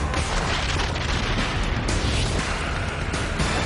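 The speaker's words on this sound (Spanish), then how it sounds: "Cada explosión arroja millones de toneladas de cenizas al cielo." The Mount Pinatubo volcanic eruption in the Philippines, a dense, continuous roaring rumble of explosive blasts and falling debris that fills the whole stretch, loud and unbroken without a pause.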